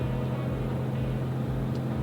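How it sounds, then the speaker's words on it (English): A BMW 2 Series engine idles steadily just after starting, a low continuous hum with a constant tone, close and even for its whole length, no voices. "Start the engine."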